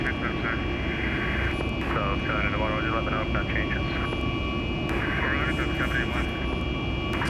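Airliner engines in a steady climb-out in a VATSIM flight simulator, a constant broadband roar running throughout, with voices talking over it.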